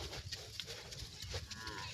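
Cows mooing on a rainy day, low drawn-out calls that overlap faintly at a distance, without talk.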